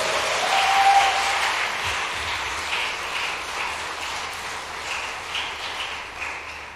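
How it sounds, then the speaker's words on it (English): An audience at a law school trial-by-combat tournament final gives a round of applause, a dense crackle of many hands that swells briefly near the start and then gradually tapers off while staying steady throughout. "So let's give him a round of applause"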